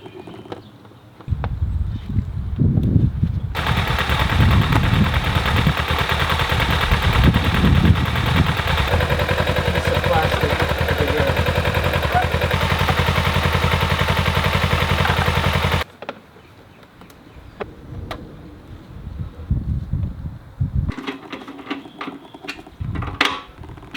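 A motorcycle engine runs after three years in storage, a loud, steady rattling idle with sharp irregular popping that holds for about twelve seconds, then stops, leaving clattering handling noises.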